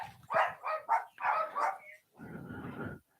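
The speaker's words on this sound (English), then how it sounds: "Sorry about the dogs." Several household dogs bark in quick, loud yapping bursts close by, followed by a breathy growling or whining stretch, with no talk over them.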